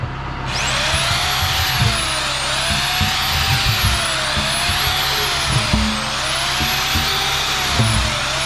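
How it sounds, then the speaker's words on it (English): A power drill whines loudly and continuously close by, its motor pitch dipping and recovering repeatedly as it bites into material. "We need to drill some holes"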